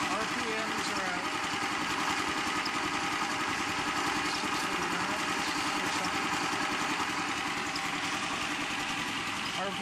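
An HHO test engine idles at a steady, even drone throughout, close and continuous, while a person talks over it.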